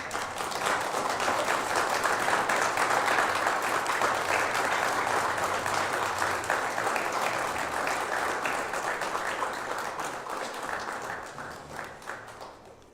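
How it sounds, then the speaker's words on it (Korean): A crowd at a Korea–Chile business event claps through a long, even round of applause before a commemorative photo session, dense and steady before gradually thinning out toward the end. "박수 한번 부탁드립니다."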